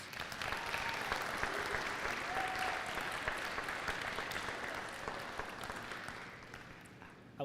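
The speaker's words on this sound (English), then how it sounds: "I was just about to say join me in another round of applause, but you guys beat me to it." Applause for a new Eagle Scout at a court of honor ceremony: an audience claps steadily for several seconds, fairly distant and even, slowly tapering toward the end.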